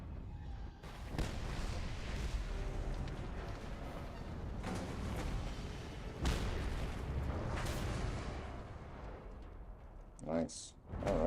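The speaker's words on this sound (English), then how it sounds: "Ready for a big explosion." A big explosion in a video game, played on a handheld gaming device, comes through as a long rumbling roar of booms and blasts, loud and sustained, with talking mixed in.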